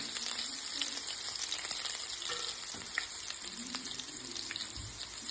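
Crushed ginger and garlic sizzle in hot oil for a varaal fish fry, a constant fine frying hiss with scattered pops and light stirring, fairly soft and steady throughout.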